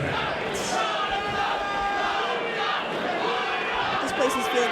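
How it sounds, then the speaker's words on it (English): A packed arena crowd roars steadily during a fighter's ring introduction at a combat sports event, with a continuous dense wash of shouting and cheering, while a voice speaks over the noise. "Huge cheering section."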